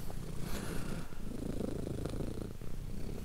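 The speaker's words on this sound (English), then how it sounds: "Such a sweet cat." A cat purring steadily up close, a continuous low rumbling vibration with soft rhythmic pulses and no voices.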